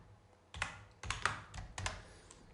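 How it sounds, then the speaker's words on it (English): Fingers type on a computer keyboard in three quick bursts of soft, close key clicks separated by short pauses, in a quiet room. "hit F2 on the keyboard and call it Facebook"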